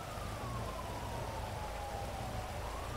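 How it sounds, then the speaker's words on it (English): An ambulance siren in Grand Theft Auto V, a steady wailing tone sliding slowly down then rising again, heard through a constant rushing background like rain or road noise. "An ambulance responding, code 3."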